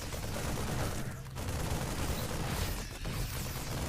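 Dense, continuous volleys of gunfire and explosions from Marines and siege tanks in a StarCraft II battle, loud and relentless throughout with no pauses.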